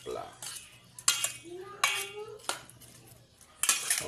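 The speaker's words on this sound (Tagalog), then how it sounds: "Then, haluin para maghalo-halo ang kanyang" A metal spoon stirs and scrapes around a bowl of pork inihaw in vinegar marinade, giving several loud clanks and knocks at uneven intervals with wet mixing between them.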